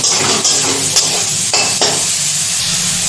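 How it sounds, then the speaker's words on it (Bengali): Loud, close frying of a spice masala with green chili, salt and a little sugar, a dense steady sizzle with several scraping stirs of a spoon against the pan. "এবার মশলাটাকে একটু ভালো করে কষিয়ে নেবো"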